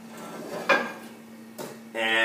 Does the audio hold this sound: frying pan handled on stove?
yes